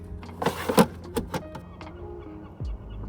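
A project car with a dead battery fails to start: a handful of weak clicks and clunks from inside the cabin, then a brief low thud, with no engine catching.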